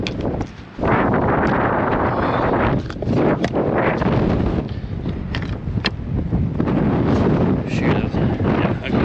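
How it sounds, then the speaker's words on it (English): Strong wind roars and buffets against the microphone almost continuously, loud and close, with brief gusting surges and a short lull near the start. "Very windy and cold."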